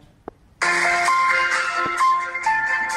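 A classic Nokia mobile phone ringtone plays loud and close as a bright, steady electronic melody, starting suddenly after a brief click and continuing through a guessing game.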